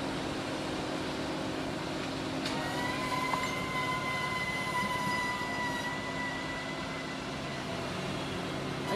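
A Virgin Trains East Coast train passes straight through Doncaster station on the main line, a loud, steady rumble of wheels with a rising metallic whine and squeal, continuous and close for the whole stretch, with no one talking.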